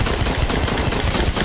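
Dense automatic gunfire in the shooter Blacklight Retribution, loud rapid shots fired in a continuous stream with no pauses, close and alone without talk.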